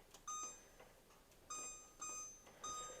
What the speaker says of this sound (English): Set my timer.